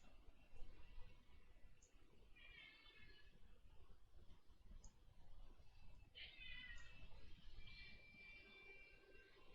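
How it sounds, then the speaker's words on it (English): A house cat meows several times at a distance, short high calls spaced a few seconds apart, faint over a low steady background hum. "The kitty cat has come to breed, or maybe ask."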